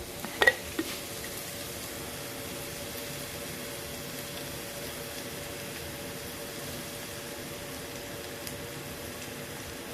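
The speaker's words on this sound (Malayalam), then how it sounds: "എണ്ണ ഉണ്ടെങ്കിൽ ഈ വെളുത്തുള്ളിയും ഇഞ്ചിയും ഇതെല്ലാം നല്ലതായിട്ടൊന്ന് മൂത്ത് നല്ലൊരു ചുവന്ന കളറിൽ വരണം" Faint, steady sizzle of garlic and ginger frying in oil for a traditional seer fish curry, a soft continuous hiss with a couple of light clinks near the start.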